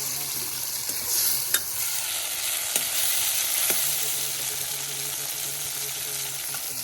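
Tomatoes frying and being stirred in a pan over an outdoor clay stove, a steady close sizzle with a low hum and a few sharp clinks of the spoon against the pan.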